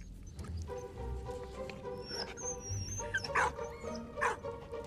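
A dog whimpers and yips in the video game Valiant Hearts, with a few short high whines rising over steady background game music and ambience, moderately faint.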